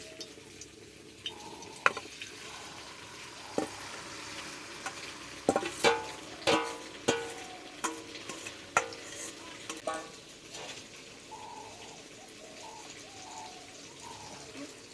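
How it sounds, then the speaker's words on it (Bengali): Chowmein noodle batter fries in hot oil in a wok over a low flame, a soft constant sizzle punctuated by a series of sharp spatula scrapes and taps, with birds faintly audible in the background. "এবার আমি এই চাউমিনের ব্যাটারটা কড়াইয়ের মধ্যে দিয়ে দেবো।"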